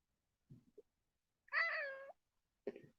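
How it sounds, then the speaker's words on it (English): A pet cat indoors gives one drawn-out meow, faint and somewhat distant, with a few soft short sounds before and after it in an otherwise quiet room. "if you guys can hear my cat in the background"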